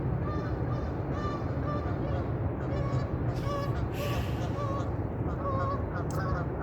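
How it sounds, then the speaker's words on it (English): Canada geese honking as they fly in past an albatross nesting site. Repeated nasal honks sound at a moderate distance over a steady background of wind and surf, with a few calls overlapping. "You can probably hear these Canada geese coming in,"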